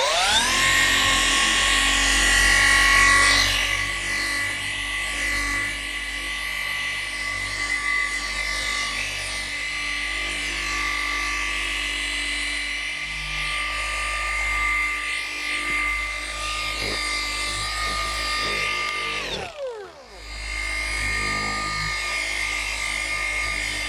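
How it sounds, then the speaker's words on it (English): A car polisher spreads wax over a car's paint with a sustained, steady electric whine and hum that wavers slightly in pitch, then briefly cuts out near the end before starting up again. "another benefit to applying waxes this way, or sealants, with your polisher is it is slightly polishing your paint"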